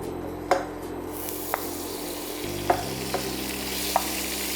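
Butter melting in a hot pan for a beef roast, giving a steady low sizzle with a few soft clinks of utensils against the pan.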